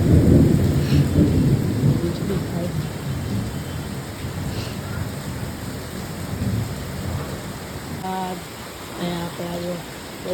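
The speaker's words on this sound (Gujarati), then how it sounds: "અવાજ તમે સાંભળી જ શકતા હશો, કેવો વરસાદ છે, વીજળી થાય છે અને ફૂલ આવે છે વરસાદ" Heavy monsoon downpour in Ahmedabad roars steadily on surfaces, with a deep rumble of thunder early on. Rain stays loud and continuous, and a voice is briefly heard near the end.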